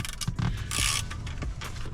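A ground bolt is loosened during an amp install in a 2023 Toyota GR Corolla, heard as a short burst of close ratcheting and creaking metal with a brief scraping hiss in the middle, with no voices.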